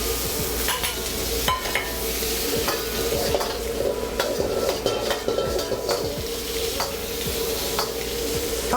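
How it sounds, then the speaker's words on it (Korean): Vegetables sizzle steadily in a wok for a stir-fried jjamppong, with a constant hiss of frying and a quick, continuous series of metal scrapes and clanks from tossing and stirring. "향기 날도록 그냥 볶아주는 거예요."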